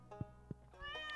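A cat meows in the video game Stardew Valley, two short game-sound mews followed by a longer, higher meow, clear and close over a quiet musical background.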